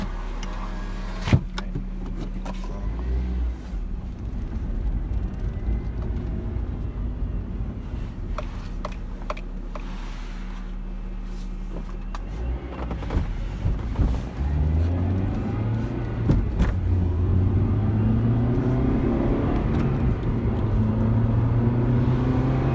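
An Acura RSX Type-S with an aftermarket air filter is driven, heard from inside the car. A steady engine drone runs under road noise, then the engine revs rise and fall through the gears in the second half, with occasional clicks and bumps.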